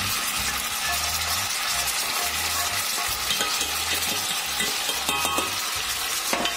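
Liver and onion fry in lard in a pot, giving a steady close sizzle. Stirring and scraping noises recur throughout, with no talking.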